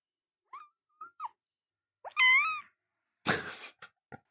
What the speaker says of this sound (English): we're getting the kitten's opinion on the topic